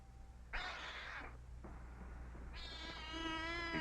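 A cat meows three times, short separated calls with the last one longer and more drawn out, close and fairly clear against a low background hum.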